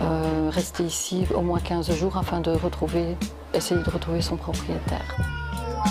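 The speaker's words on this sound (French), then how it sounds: "Ici, il s'agit d'un chat qui est abandonné." An abandoned cat in an animal shelter's quarantine area meows over and over, loud and close, with plaintive drawn-out cries while a person talks over them.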